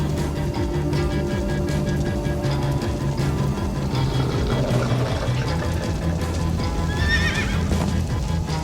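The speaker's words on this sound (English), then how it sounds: "Slow down, horse!" A horse in Minecraft: Story Mode whinnies over a running clip-clop of galloping hooves, with a game music score layered underneath and a sharp neigh rising near the end.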